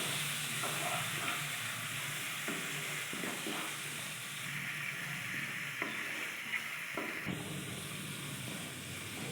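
Shrimp masala with coconut milk sautés in hot oil, giving a steady close sizzle and hiss, with occasional soft scrapes of stirring running through it.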